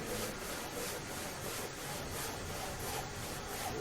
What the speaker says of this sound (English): The sawing of the firewood.